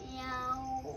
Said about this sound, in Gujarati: હા ભાઈ બિલાડી આવી છે ક્યાંકથી બહારથી.